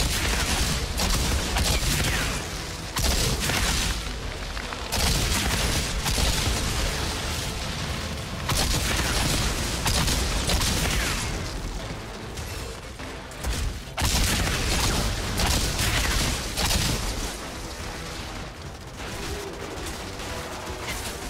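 Volcanic rounds gunfire in Outriders, fired by a level 15 Pyromancer on World Tier 7, sounds as dense, rapid bursts mixed with booming explosive impacts. Loud volleys repeat throughout with brief pauses and no talking.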